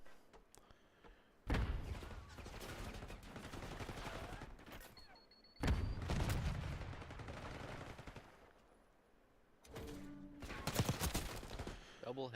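Call of Duty league match gunfire: bursts of rapid automatic fire come in three loud stretches separated by quieter gaps, with commentators talking over the action.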